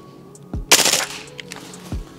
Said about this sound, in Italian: gli ultimi colpi li facciamo in raffica.